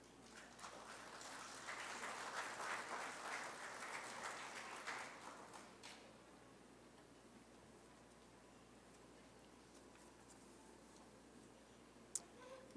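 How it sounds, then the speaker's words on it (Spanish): Applause from an audience for a speaker at a university network launch event fills the room for about six seconds, then fades to quiet room tone with a single sharp tap near the end. "pues un fuerte aplauso"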